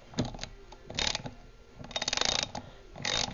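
Ratchet wrench with a 13mm socket tightening a bolt on a Tecumseh small-engine carburetor, giving several close bursts of rapid clicking separated by pauses, quiet overall with no talking.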